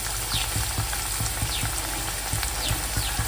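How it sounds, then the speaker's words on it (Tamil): A steady, crackling sizzle of potatoes frying in hot oil, with faint periodic tapping or stirring sounds underneath. "உருளைக்கிழங்கு நல்லா வந்து ஃப்ரை ஆகிட்டு இருக்கு"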